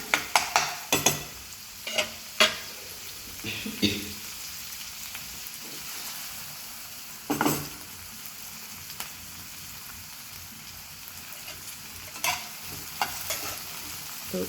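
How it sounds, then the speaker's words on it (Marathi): Tomato and onion frying in a pan on a raised flame, with a few scraping stirs early on and again midway over a steady soft sizzle, fairly close with no talk. "जेणेकरून आपला टोमॅटो आणि कांदा हा चांगला त्याच्यामध्ये शिजून निघेल."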